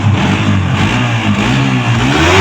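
A 2022 Indonesian-version motorcycle with dual-channel ABS idles loud and close, its engine note rising and falling in steady revs throughout.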